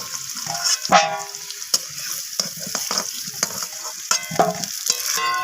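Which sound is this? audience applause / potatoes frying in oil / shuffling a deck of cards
potatoes frying in oil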